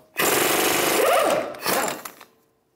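A 32mm socket spins off the wheel hub nut on a 2011-2019 Ford Explorer: one loud, close mechanical burst of about two seconds, a brief pause, then a shorter second burst before it stops. No one talks.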